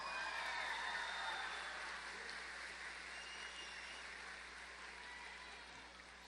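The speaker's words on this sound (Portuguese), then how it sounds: "Aplauda o paraíso, aplauda o paraíso." Audience applause at a church sermon, a steady sustained clapping from a large crowd that fades gradually, heard alone without voices.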